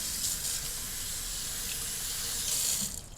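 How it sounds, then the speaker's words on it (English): Hot water runs steadily from a kitchen tap over frozen peas in a colander in the sink, a continuous broadband hiss and splash at moderate level with no talking. "I'm gonna pour them into a colander. Just run them under hot water."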